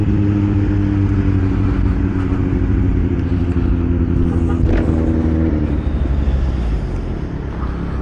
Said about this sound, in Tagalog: Para may record ng Kawasaki, ng mismo motor ko.